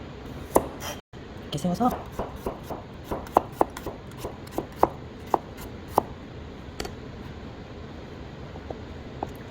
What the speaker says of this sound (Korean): 자, 마늘도 편 썰어서